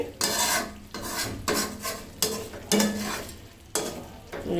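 Chicken pieces stir-frying in a pan for a dark chicken bhuna, rhythmic bursts of sizzling with scraping strokes of a spoon, about five strokes close up.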